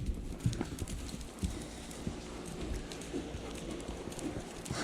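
Rhythmic clip-clop of a horse's hooves at a trot on firm ground during a warm-up workout, steady and close, with occasional low snorts or breathing.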